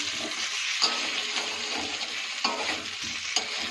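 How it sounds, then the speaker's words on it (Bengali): Fish curry bubbling and sizzling in a pan, a steady broadband fry with soft stirring scrapes and a few sharper clinks, close and continuous with no talking. "এই যে কাটা মাছ রান্না হচ্ছে"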